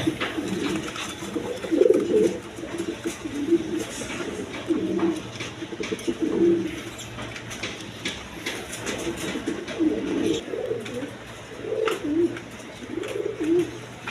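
Satin pigeons cooing in a market coop, repeated low throaty coos from several birds close by, steady background noise with no talking.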